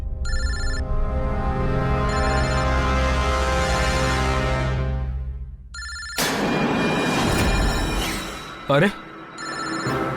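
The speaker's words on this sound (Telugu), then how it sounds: "ఇది అదే నెంబర్, నా కాల్ వస్తోంది." Telephone ringing with an incoming call: bursts of a bright electronic ringtone repeat over a low sustained tone, then someone speaks briefly between rings amid dramatic background sound.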